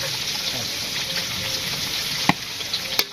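Senchi greens fry with dried chili and onion in a village kitchen, giving a continuous bright sizzle with a few sharp clatters near the end.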